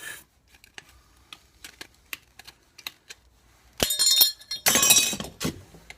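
Metal control-module lid for a BMW R80 cafe racer being cut to size, with a scattering of small sharp clicks and snips, then two bursts of loud, harsh cutting noise near the end.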